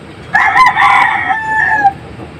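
A Taiwan Cross gamefowl rooster, a black bird, crows once close and loud, a single drawn-out cock-a-doodle-doo call lasting about a second and a half.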